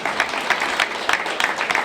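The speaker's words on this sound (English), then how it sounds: "give a big round of applause for our wonderful Grace Meng" A rally crowd at a community unity gathering claps for an elected official, a brief burst of close, crisp applause with uneven peaks throughout.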